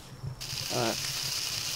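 Berries fry in the Palworld video game, a short hissing sizzle that starts abruptly and holds steady, with a brief buzzy game sound partway through.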